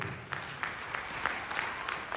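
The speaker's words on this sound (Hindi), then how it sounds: "एक बार जोरदार तालियां बीबी सिंह सर की" Applause for a trainer at a motivational business seminar: faint, distant clapping from a crowd with a few sharper individual claps standing out, steady throughout.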